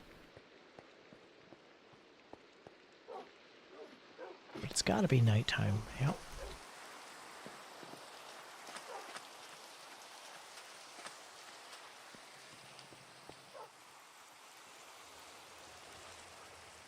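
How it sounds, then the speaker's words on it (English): Steady rain falls in the Minecraft game beside a fishing stream, a soft continuous hiss lasting throughout, with a brief louder burst of game sounds partway through and a person talking over it. "And it's still raining."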